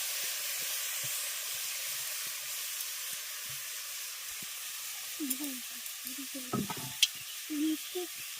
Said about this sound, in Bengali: এবার গ্রেট করে নেওয়া আমগুলোকে আমি কড়াইয়ের মধ্যে দিয়ে দিচ্ছি